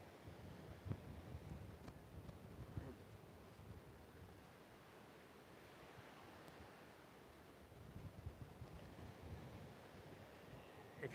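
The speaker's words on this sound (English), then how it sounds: "Notice the sound of the ocean." Oceanfront surf washes steadily against the shore, a soft continuous rumble and hiss with gentle swells, mixed with breezy wind noise at a low level and no voices.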